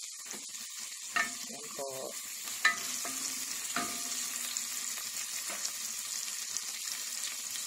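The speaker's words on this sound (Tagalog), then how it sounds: "Gisa-gisa. Gisa-gisa natin." Garlic sautéing in a pan for chicken curry, a steady sizzle of frying with occasional stirring scrapes and clinks, close by, with a brief spoken word over it.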